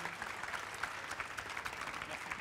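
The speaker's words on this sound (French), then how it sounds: "recevoir les applaudissements du public de la Coupe de France de la boulangerie" Public at the French bakery cup, the Coupe de France de la boulangerie, applauds in a soft, distant, continuous clatter of many hands, with voices murmuring underneath.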